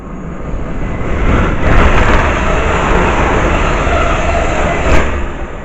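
A pair of Class 350 electric trains passes through a station, bound for Crewe, making a loud, steady broadband rush and rumble that holds for several seconds with slight swells, and no talk over it.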